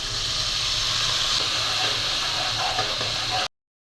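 Spices sizzle in a hot cooking pan for a Bengali fish curry, a steady loud broadband hiss that runs without a break and then cuts off abruptly near the end.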